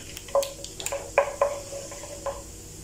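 Whole spices cooking in oil in a pan for chicken kofta curry, a soft sizzle under several light metallic clinks and taps of a utensil against the pan, close and intermittent.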